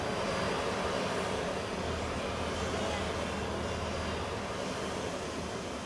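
Airplane landing at a military medical evacuation site, a steady, loud broadband engine roar that holds evenly throughout with no voices over it.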